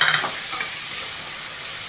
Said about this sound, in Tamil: எண்ணெய் ஊற்றி வெல்லம் போட்டு கடலைப்பருப்பு வெங்காயம் பச்சை மிளகாய் இது போட்டு ஒரு 5 நிமிஷம் வதங்கினா போதும்